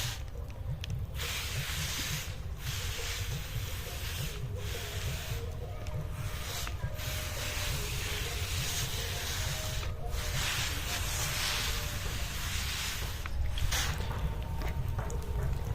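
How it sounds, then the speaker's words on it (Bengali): Fungicide and insecticide mix sprayed onto a mango tree's leaves gives a steady, close, unbroken hiss of spray that runs the whole time, with brief dips where the flow pauses. "এবার আমি এটা গাছে স্প্রে করে দেব।"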